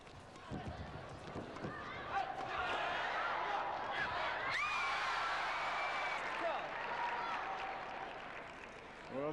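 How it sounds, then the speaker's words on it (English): Big crowd at the 1998 Asian Games in Bangkok during a South Korea match, cheering and applauding in a swelling roar under commentary, with scattered whoops and thuds of play. "there's a big crowd here and they are being absolutely treated"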